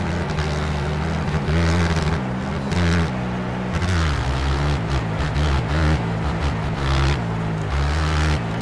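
A Biz 125 motorcycle engine in MX Bikes drones steadily, swelling and dropping as the throttle revs rise and fall in repeated waves, loud and close with no talk.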